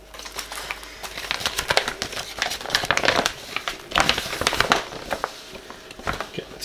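Package of Oven Pride oven cleaner opened and its plastic bag handled, giving close crinkling and rustling in irregular bursts throughout.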